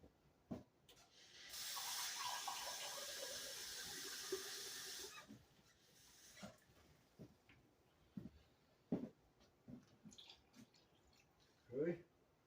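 Tap water runs steadily into a cup for a few seconds in a home kitchen during biscuit bread baking, a hissing pour that stops abruptly, followed by scattered clinks and handling noises.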